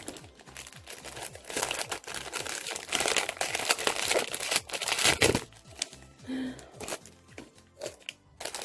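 A plastic package of merchandise is torn open up close, with sustained crinkling and crackling of the wrapper in uneven bursts and a few quieter moments near the end.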